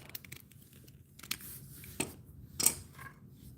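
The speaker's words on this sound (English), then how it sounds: "I'm gonna get some heat shrink tubing, cut this off." Heat shrink tubing snipped with scissors during brake-light wiring work on a Honda Shadow Phantom bobber: a few quiet, sparse cuts and crinkles spread over a faint, near-silent background.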